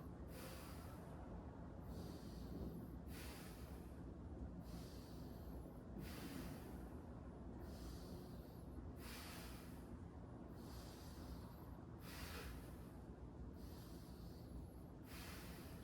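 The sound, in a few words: patient taking deep breaths during lung auscultation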